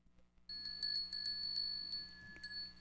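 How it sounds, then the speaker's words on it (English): A hand bell rings at a church Sunday service, struck repeatedly in quick succession with bright, lingering metallic tones in a quiet room. "You notice I have a bell."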